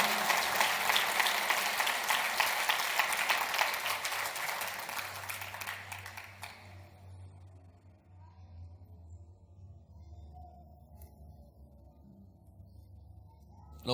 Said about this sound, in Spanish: aplauda que Jesucristo es bueno